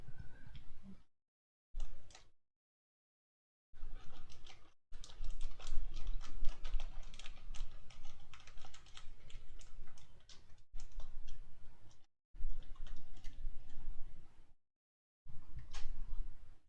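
Clicky, clacky keystrokes from a custom-built Mint Portico mechanical keyboard, typed in quick irregular bursts that break off with several short silent gaps, close and fairly loud with no talking.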